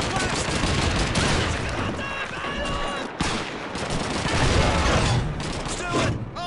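Call of Duty 2 gameplay fills with dense, continuous gunfire, with rapid rifle and machine-gun bursts layered over battlefield noise, loud and close.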